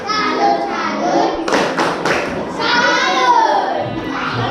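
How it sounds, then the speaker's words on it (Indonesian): A class of primary school children performs a rhythmic clapping chant, quick bursts of claps and thuds mixed with children's voices chanting along, loud and close. "Beri tepuk salut."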